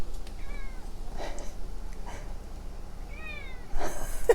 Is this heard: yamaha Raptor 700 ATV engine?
no